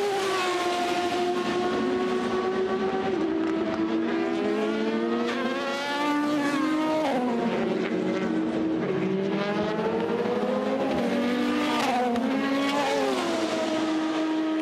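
The Alpine number 36 race car pulls away from its pit stop at the 24 Hours of Le Mans, engine loud and close, revving up through rising and shifting gears with continuous roar and no talking.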